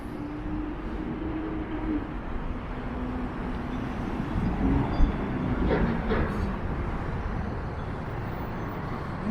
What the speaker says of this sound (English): There's a GO train pulling into Union Station.